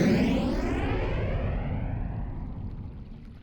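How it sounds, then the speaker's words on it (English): A jet aircraft passing overhead, a loud broad roar that sweeps down in pitch and fades steadily as it moves away over a few seconds. "then send it off on a skyward jet?"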